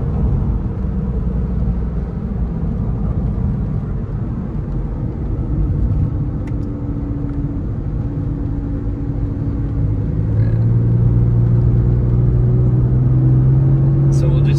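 A 2000 Porsche 911 Millennium Edition engine heard from inside the car, a steady low drone that climbs in pitch as it revs to about 5,500 RPM, with someone talking over it.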